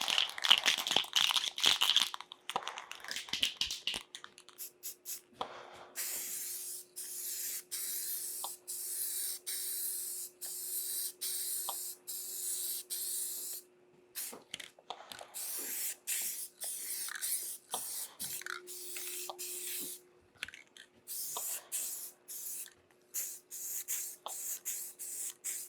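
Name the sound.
spray painting a model with textured spray paint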